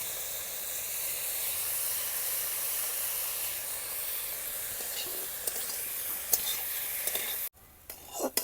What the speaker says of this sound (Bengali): ধনিয়া পাতাটা দিয়ে হালকা তাপে 5 মিনিট ভাজা নামায় নিলাম